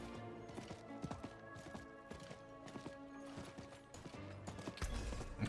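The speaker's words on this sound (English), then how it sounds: "Spur the horse on a tiny bit." Galloping horse hooves while riding in Diablo 4 set a steady clip-clop rhythm beneath layered game music and effects, moderately loud and continuous with no talking.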